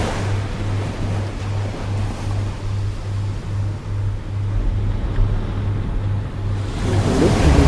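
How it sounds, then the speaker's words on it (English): Ocean waves wash steadily in a continuous broadband surf rush, moderately loud and unbroken throughout, with a low engine-like hum running underneath and the wash swelling slightly toward the end. "And just listen to the sound of the waves."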